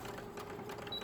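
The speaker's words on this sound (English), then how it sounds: "So I'm going to move you over to my sewing machine so you can watch as I stitch." A sewing machine runs steadily at a short stitch length, hemming fine chiffon fabric with horsehair braid, giving a close, continuous whirring hum with no talking.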